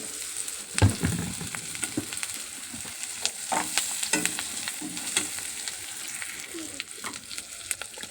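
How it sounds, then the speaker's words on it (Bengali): Beef tripe sautés in a hot pan, a steady sizzling fry broken by repeated stirring scrapes and clatters, close and fairly loud with no talking. "ভুঁড়ি বা জিগড়ি যাই বলো, এটা ভালো করে কষিয়ে নিতে হবে।"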